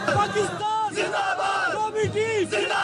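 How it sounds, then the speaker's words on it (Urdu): A large crowd of citizens gathered around sports players chants Pakistan Zindabad slogans, loud massed voices rising and falling in rhythmic shouted bursts close by. "پاکستان زندہ باد کے نعرے لگائے"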